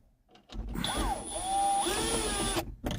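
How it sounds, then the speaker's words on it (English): A power drill drives T20 screws into the overhead dome light console of a 2006 Dodge Ram 1500 pickup, whirring up and changing pitch in a near, steady burst lasting about two seconds. "make sure you got the drill turned down, or you may just want to do it by hand, because if not, you're gonna break it"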